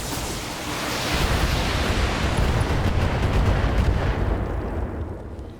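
A turret blown apart in the BattleTech video game, a heavy rumbling explosion that swells and rolls on for several seconds before tailing off.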